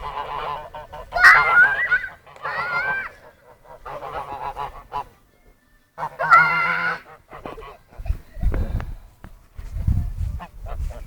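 Geese and ducks honk and call loudly in bursts as a flock crowds in for bread, with excited children's voices and outdoor rumble between the calls.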